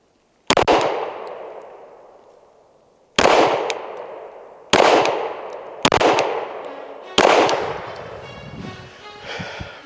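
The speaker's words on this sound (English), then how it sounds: "We're gonna shoot 5 more on the one below it." Five pistol shots from a SIG P320 at an outdoor shooting range, each a sharp loud crack with a long ringing decay, spaced irregularly with pauses between them.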